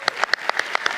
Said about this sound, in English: Can we get some applause for Fannie Lou Hamer?